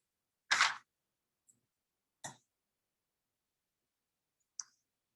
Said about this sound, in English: so I'm gonna flip my paper over.